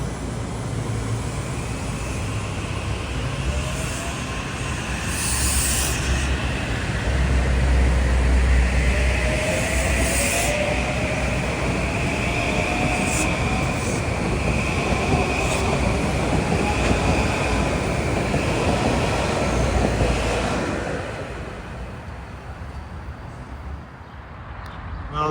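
Metro-North commuter train at Stratford station on the Grand Central to New Haven line, a loud sustained rumble and clatter of cars rolling through with wheel squeal, fading near the end, with some talk.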